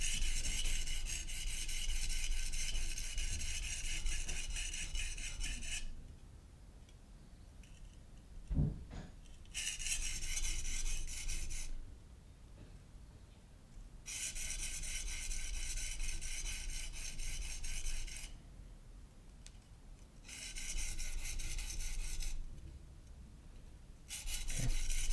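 A knife sharpened by hand on a stone: repeated rhythmic rasping strokes in bursts separated by short quiet pauses, close and clear, with a single sharp tap midway.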